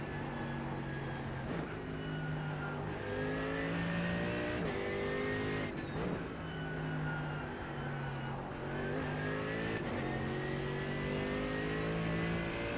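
Racing video game engine audio: a McLaren race car and others revving and accelerating, engine pitch climbing and dropping through gear shifts, loud and continuous across the whole stretch.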